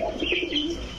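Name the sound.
high flyer pigeon cooing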